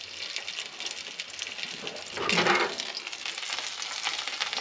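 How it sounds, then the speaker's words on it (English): Sausages sizzling in a frying pan on a van camp stove, a steady bright crackle that swells briefly midway with a louder hiss, no talk. "Sausages in the pan."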